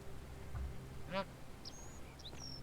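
A goose in the video game The Forgotten City gives a few short honking calls, faint and somewhat distant, over a quiet background with low ambient hum.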